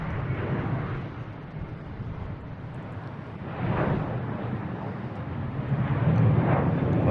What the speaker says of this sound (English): It's American heading to LAX.